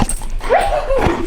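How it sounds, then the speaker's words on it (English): A dog, reacting to a nearby tractor, lets out a short whining, rising howl-like yelp at close range, brief and loud. "What are you howling at out there?"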